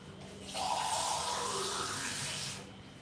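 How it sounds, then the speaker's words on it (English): Water pours steadily into a pot of rice for a couple of seconds, a broad rushing splash that starts abruptly and stops, close and fairly loud. "So now we will be adding water."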